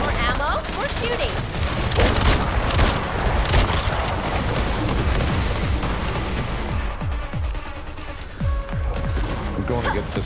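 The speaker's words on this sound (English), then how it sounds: "More ammo, more shooting." Gunfire in the video game Resident Evil Requiem: a dense, loud stream of rapid shots and heavy booms rolls on without pause for about ten seconds.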